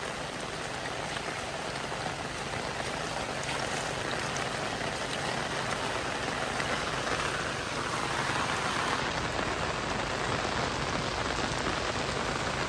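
Steady rain falls on surfaces outdoors, a dense continuous hiss of drops that stays loud and even throughout, with no voices over it.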